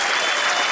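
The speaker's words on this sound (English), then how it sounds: "there's got to be like applause for that" A short, dense burst of applause sound effect, loud and even for under a second.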